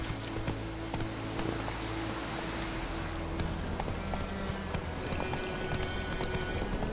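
Horse hooves galloping in The Witcher 3 video game, a steady rapid clip-clop rhythm running throughout over a constant background of game ambience.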